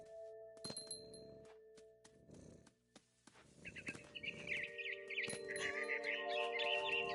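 Bird chirping in the game What Remains of Edith Finch, a series of bright tweets and trills over soft music with chiming tones, moderately close and quiet.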